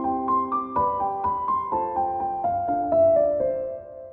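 Soft sustained background harmony chords shifting every half second or so beneath a simple melody line in a music composition example, gentle and clear with no talking.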